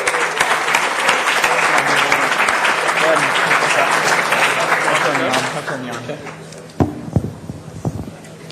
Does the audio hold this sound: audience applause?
yes